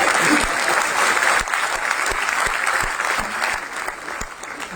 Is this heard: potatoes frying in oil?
no